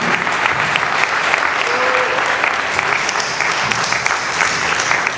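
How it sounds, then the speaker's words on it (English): An audience at an award ceremony applauds in a dense, steady wave of clapping that fills the room for about five seconds, loud and continuous. "So let's keep those applause going"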